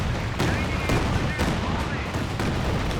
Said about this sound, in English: Calliope barrage off to the side.